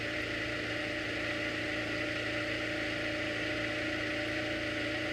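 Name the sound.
IndyCar engine idling while coasting under yellow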